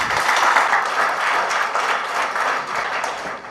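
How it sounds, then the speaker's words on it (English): An audience at an academic metallurgy lecture breaks into sustained applause, a loud dense wash of clapping that tapers slightly toward the end, with no voices. "Have a big round of applause for Dr. V. Ramchandran."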